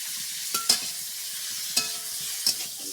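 Cauliflower and eggplant fry in oil in a pan with a continuous bright sizzle. A few sharp clinks and scrapes of a utensil stand out above it, close and without talk.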